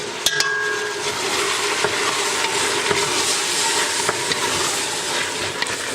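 Onion and garlic sizzle steadily in a hot pan, a continuous dense crackle with occasional small pops and a few clicks from a spoon stirring, close and fairly loud, no talking.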